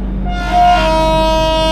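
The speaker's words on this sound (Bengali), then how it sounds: "ট্রেন কিন্তু হর্নও মেরে দিয়েছে অলরেডি" The horn of the Dhauli Express at Puri station sounds as one long steady tonal blast, loud and close, over the low rumble of the train.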